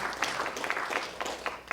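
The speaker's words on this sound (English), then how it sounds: "who's been clapping loudly in the back" An audience at a community foundation honoring event applauds, with dense, steady clapping and a few sharper individual claps standing out nearby.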